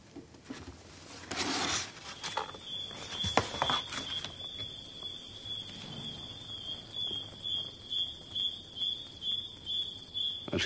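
Cricket chirping in a pet shop scene, a loud, sustained high-pitched trill that starts after a brief rustle and continues steadily, close and dominant, with faint background shuffling.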